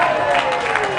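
Crowd at a VFL Australian football match between Williamstown and Collingwood, a broad steady roar of cheering and applause washing through the stands, continuous and moderately loud without a break.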